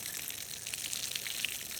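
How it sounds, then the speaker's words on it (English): Dam water pours onto a newly planted apple tree outdoors, a steady close hiss of splashing flow that runs unbroken and fairly quiet throughout. "First apple tree getting watered."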